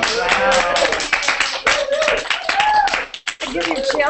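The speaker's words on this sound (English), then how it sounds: "Everybody here in the studio is clapping as well." A studio audience claps steadily in a dense, close patter, with a voice speaking over the applause.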